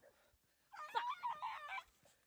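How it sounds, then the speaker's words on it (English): A dog at a local dog park in Canada whimpers in a short, high, wavering burst lasting about a second, fairly close, amid quiet outdoor background. "Hazards of walking your dogs at the local dog park in Canada."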